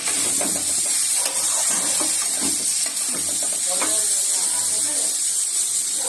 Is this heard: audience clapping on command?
no